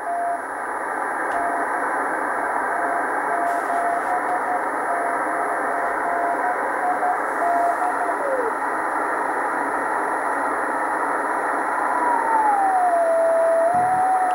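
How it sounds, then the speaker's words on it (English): A 10-meter amateur radio beacon keys Morse code in two alternating tones over loud, steady receiver hiss, with the pitch wavering as the signal drifts. "This one with an unusual two-tone Morse code."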